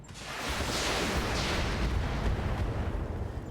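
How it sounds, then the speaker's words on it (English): A mech in the RogueTech video game launches a volley of SRM missiles, a dense roaring rush of overlapping blasts and rumble that stays loud and continuous throughout, with no talking over it. "we can just fire our SRMs, and so we shall"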